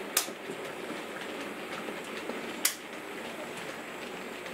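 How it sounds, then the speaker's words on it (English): A model railway freight train with light trucks runs around the track at a slow freight speed, giving a steady rolling rumble and a couple of sharp clicks as the wheels cross rail joints. "I'm going to set it up as a freight train being pulled around the track"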